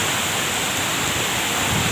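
Heavy rain pours down in Islamabad as a steady, dense broadband hiss that stays loud and continuous throughout, with no voices present.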